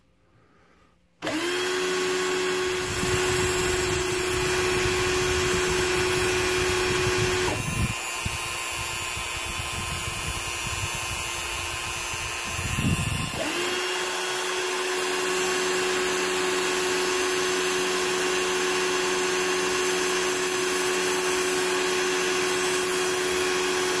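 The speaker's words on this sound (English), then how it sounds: "So I'll just grind that off and try it again." A power tool grinds down a small model propeller for a Cessna 150 build, a loud continuous whine that runs nearly the whole time with brief dips in pitch and load.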